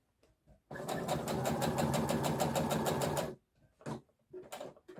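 A sewing machine stitches fabric for Christmas bunting in one close, steady, rhythmic run of about two and a half seconds, followed by soft handling sounds as the work is turned.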